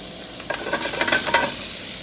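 A chopped garlic clove hits a hot frying pan, bursting into a short, close hiss of sizzling crackle that swells and fades within a second or two.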